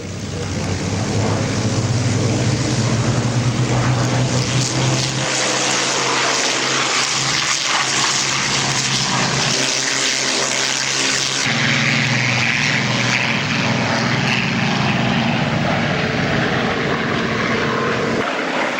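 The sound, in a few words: Spitfire aircraft taking off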